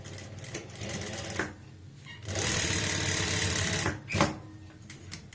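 Sewing machine running along a women's shirt collar with paper pasting, several short starts and stops before a longer steady run of stitching.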